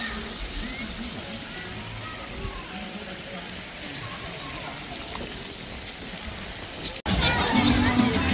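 Steady rushing, spraying water at a resort splash pad at Hard Rock Riviera Maya, a continuous hiss with faint crowd murmur, ending in a sudden louder burst of splashing noise.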